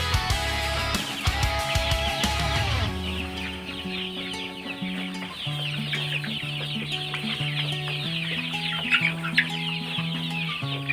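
Layer hens on a small poultry farm cluck steadily, a busy overlapping chorus of short clucks and calls continuing without pause across the whole stretch, with no voices.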